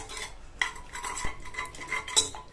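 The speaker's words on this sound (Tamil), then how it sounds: "இத ஒரு கரண்டியோட பேக் சைடு வச்சு நல்லா இந்த மாதிரி மசிச்சு விட்டுட்டு" Metal ladle pressing and scraping against a pot while mashing soft cooked dal and vegetables, a close series of clinks and squelchy scrapes with one sharper knock near the middle, no talking.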